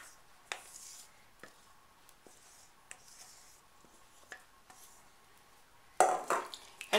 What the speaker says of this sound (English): just stir it together